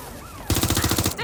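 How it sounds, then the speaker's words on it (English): Rapid automatic gunfire bursts out loud and close in Watch Dogs: Legion after a quieter opening, a steady rattling volley lasting most of a second before cutting off. "They're shooting!"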